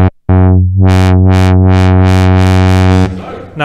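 A buzzy Behringer Odyssey analog synth tone holds one low note while its 4-pole filter, without resonance, sweeps open and shut in repeated waves, smooth and unresonant, loud and close.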